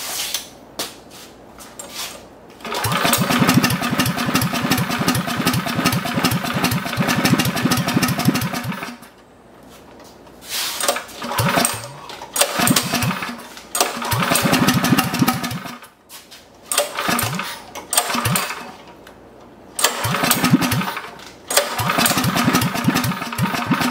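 A pull-started go-kart racing engine sputters, catches and roars loudly, revving in uneven bursts with brief drops to near silence between runs.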